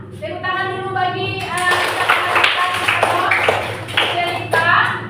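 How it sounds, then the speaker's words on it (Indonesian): A class of students claps hands together, a burst of quick scattered claps following a teacher's spoken voice, fairly close and lively. "Iya, tepuk tangan dulu"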